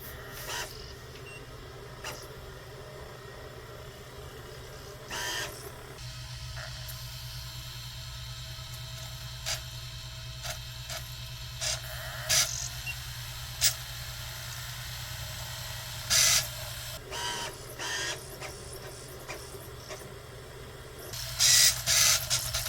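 Sega Dreamcast GD-ROM drive running Zombie Revenge, a faint steady mechanical whir broken by intermittent clicks and ticks of the disc head seeking.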